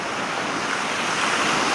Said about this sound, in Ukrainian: Фонтанчик працює.